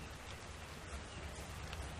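Rain falls in the Ark Survival Evolved game as a faint, steady hiss with no breaks and no voices.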